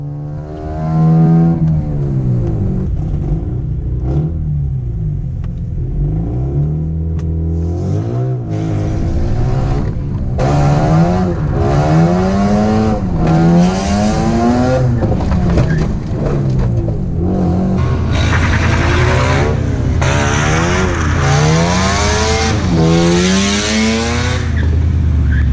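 A Mazda RX8 drifts sideways, its engine revving hard and rising and falling in pitch again and again, with tires squealing through the slides, loud and close throughout with no talking.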